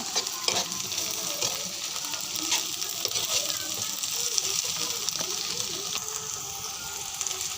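Steady sizzling of food frying in a pan, with occasional light scraping and stirring clinks throughout.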